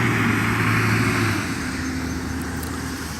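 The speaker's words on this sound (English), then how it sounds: "Sorry, truck's a little loud." A truck runs loud and close on a cattle farm, a constant deep engine rumble with broad roaring noise that eases off slightly partway through and carries on with no voices over it.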